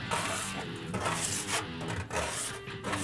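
Scraping residue off a Lone Star Grillz barbecue grill with a non-metal scraper, a close, steady run of rough rasping strokes with brief pauses between passes.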